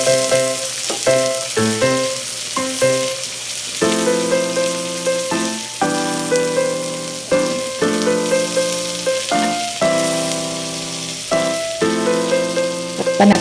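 Tomatoes dropped into a hot frying pan, for braised pork in shrimp paste, spit and crackle in a loud, steady sizzle broken by repeated bursts of popping.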